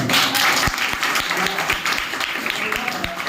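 Audience applause at a celebration function in Islampur, Gurgaon: a steady wash of clapping from a crowd, fairly loud and continuous, with some voices mixed in underneath.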